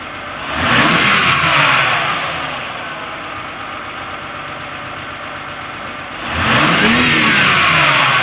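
BMW 328i xDrive SULEV engine revving twice under throttle, each rise climbing and falling back to a steady, slightly rough idle in between; close and loud, with no talking.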